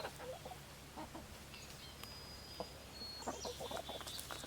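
Chickens in a farmhouse coop cluck softly and intermittently, with scattered short calls rising over a quiet background hum; no one speaks.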